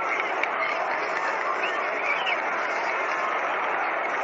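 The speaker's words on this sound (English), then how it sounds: "Getting a nice round of applause." A 1937 World Series crowd at a Yankees–Giants game applauds batter Tony Lazzeri, a steady, distant roar of clapping heard through old, band-limited radio audio, continuous for several seconds.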